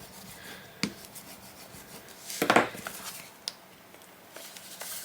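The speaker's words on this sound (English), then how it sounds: "I'm going to burnish it because I want to make sure that sticks really well, especially on the edges and at my spine" Paper being burnished onto the spine folds of a Christmas-themed book box, faint close rubbing and scraping strokes with a few soft taps and one brief louder burst, without talk.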